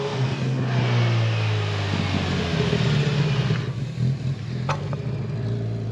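On a racing track, a Honda Hornet 750 motorcycle with a quick shifter roars steadily, its engine note dropping and shifting through gears, with wind rushing loudly throughout.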